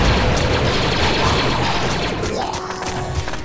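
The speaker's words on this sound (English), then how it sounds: "Grenades! Take cover!" Grenade explosions in the video game Star Wars Republic Commando, a loud continuous blast and roar with crashing debris that fills the space and slowly eases off.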